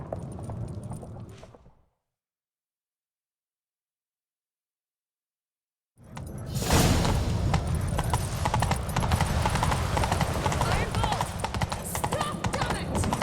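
Galloping horse hooves in The Witcher 3 video game, a rapid loud clip-clop drumming that starts after a stretch of silence and pounds on steadily to the end, following a short burst of game sound at the start.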